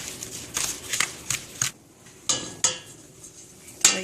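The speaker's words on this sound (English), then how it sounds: "And stir this really, really, really good." Clinks and scrapes of a utensil stirring homemade concentrated laundry sauce in a metal pot, irregular knocks and clatters spaced through the clip, close and fairly quiet with no talking.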